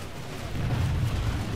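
A grenade blast in the PlanetSide 2 shooter, a deep rumbling boom that swells midway and lingers as a low roar with no talk over it.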